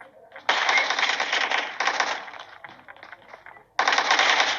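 Bursts of rapid automatic gunfire and a shotgun blast from a close-range fight in a video game, loud and dense in two long rattling volleys separated by a quieter stretch of scattered shots.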